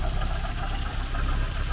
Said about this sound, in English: It is running, and it is idling.